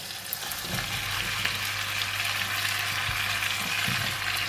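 Pumpkin and pork belly stir-frying in a hot pan: a steady, close, loud sizzle runs without a break the whole time, with soft stirring movements beneath it and no one speaking.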